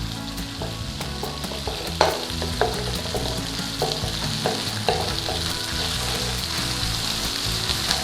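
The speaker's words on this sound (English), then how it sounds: "our red chili paste. So get that in there, give it a little stir around, just cook out a little bit of the rawness." Red chili curry paste frying in a pan and being stirred to cook off its rawness, with a steady close sizzle broken by scattered scraping and stirring knocks.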